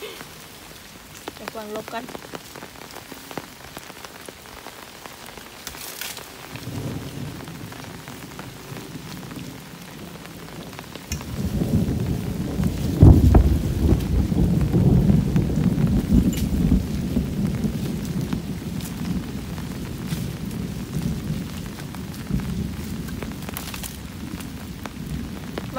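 Heavy rain pours down and swells into a dense roar partway through, with a deep rumble of thunder rolling beneath it; people talk briefly over the downpour.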